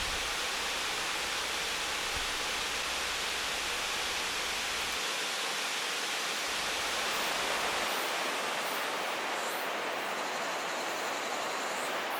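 A waterfall in a mountain valley at Dutasan in Donghae, Gangwon-do, pours as a steady, dense wash of rushing water, constant and fairly distant, with no voices.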